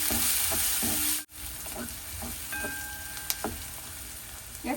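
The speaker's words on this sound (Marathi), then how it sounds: "आपण आता हे परतून घेऊया." Onion, ginger and garlic sauté in a pan for a snake gourd curry, giving a steady close sizzle that cuts out for a moment, then resumes with light stirring taps and scrapes.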